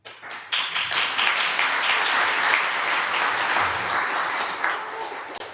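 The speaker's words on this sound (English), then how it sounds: "Please give him a round of applause." Audience at an evening yoga and healing-mantra gathering applauds a tabla accompanist, dense sustained clapping that starts abruptly and holds steady throughout, with a faint voice under it.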